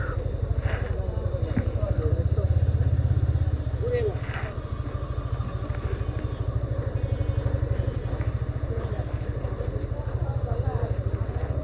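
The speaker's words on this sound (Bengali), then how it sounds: "আমরা এখন এখানে বাইকটা পার্কিং করি।" A motorbike's engine idles steadily nearby as it is parked on a street outside a sweet shop, a constant low rumble with faint clatter running throughout.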